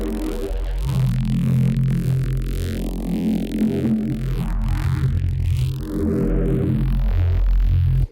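A neuro bass synth patch built in Phase Plant and shaped with multiple EQs plays a dense, growling low-end tone whose upper resonance sweeps down, then climbs steeply high, loud and continuous until an abrupt stop.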